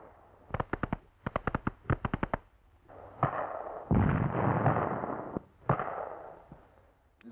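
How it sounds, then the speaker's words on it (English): Wartime mortar and weapons fire in an old newsreel, opening with rapid bursts of sharp reports in quick clusters, then heavy booming blasts with long rumbling decays, loud and distant-sounding. "the mortar is employed with success"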